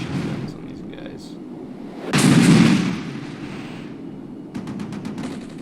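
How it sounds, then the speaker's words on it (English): Machine guns fire in a military video game as a squad moves up a dangerous ridge: one loud, dense burst of gunfire stands out, followed later by sharper, fainter pops over a steady background rumble. "We are unloading machine guns on these guys."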